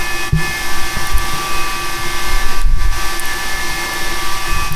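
Jet engine roaring steadily through a takeoff roll of an L-39, C-101 or MB-339 trainer on a carrier deck in the DCS flight simulator, a loud continuous whine with brief low thumps.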